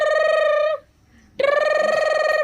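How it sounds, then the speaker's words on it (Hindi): Electronic phone ringtone chirping in two steady bursts with a short gap between them, loud and close, no talk over it. "एकर फोन है"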